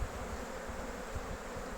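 Agitated bees buzz steadily around an opened beehive during a hive inspection that is not going to plan, a continuous faint drone with no talk.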